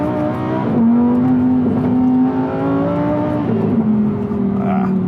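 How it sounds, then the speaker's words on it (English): Lamborghini Huracan V10 engine drones steadily at high revs, close and loud, its pitch climbing and dipping slightly as the car accelerates, with no talk over it. "that V10 engine, I mean, I just can't say enough about it"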